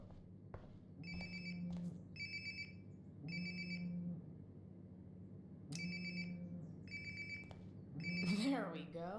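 Phone ringing in the video game Life is Strange: Before the Storm, a repeated electronic ring in evenly spaced bursts over a steady low hum, fairly faint and heard alone without talk.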